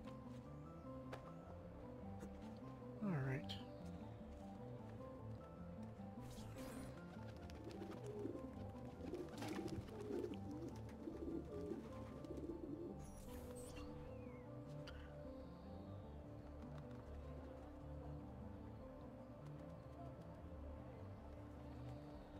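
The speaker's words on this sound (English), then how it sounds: "There's our pigeon coop." Pigeons coo softly at a pigeon coop in the Assassin's Creed II video game, the low murmuring calls running through a steady ambient game background, with a few brief louder bird sounds near the start and middle.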